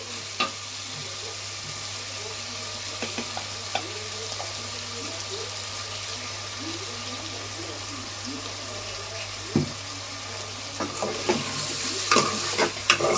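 Brinjal and chana dal cooking in oil in a pan for a curry: a soft, continuous sizzle with occasional sharp clinks and scrapes of stirring that grow busier toward the end.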